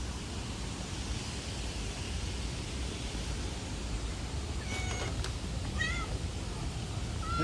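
Stray cat outdoors being fed, giving a few short meows near the end over steady broadband background noise.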